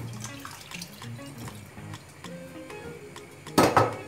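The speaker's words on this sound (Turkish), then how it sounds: "Şimdi kaynar suyu kavanozların üzerinden şöyle dökeceğim." Boiling water poured over glass jars while canning menemen, heard as a steady close stream of splashing with faint clinks of glass, then a louder gush of water near the end.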